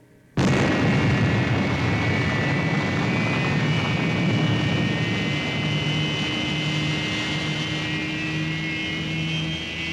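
Fireball XL5 spaceship blasting off at full power: a sudden loud roar kicks in and holds as a dense, steady rumble with a high whine riding on top, continuous to the end.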